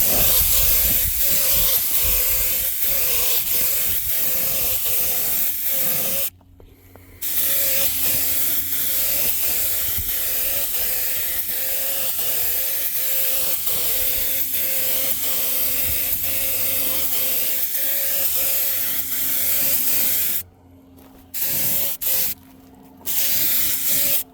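A spray gun hisses in long steady bursts while painting a Humvee HMMWV rear AC evaporator box, loud and close, with two brief pauses where the spray cuts off before resuming.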